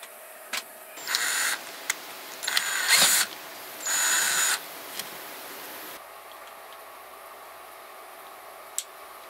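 A power drill whirs in several short bursts, each lasting under a second, separated by brief pauses and small clicks, close by with no talking, while enlarging a hole during a light and room divider repair.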